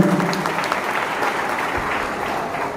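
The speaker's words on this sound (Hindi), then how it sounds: "एक बार उनके लिए जोरदार तालियों के साथ अभिनंदन।" Steady, dense applause from a large audience at a charity scholarship distribution ceremony in Tinsukia, held at an even loudness throughout with no break.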